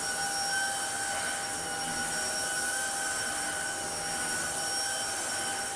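Shark IC160 DuoClean cordless vacuum cleaner running steadily, a constant high-pitched motor whine with airy hiss and tonal hum, close and unbroken.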